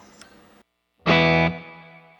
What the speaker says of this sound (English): let's go to the third reverb in this pedal, which is a digital reverb style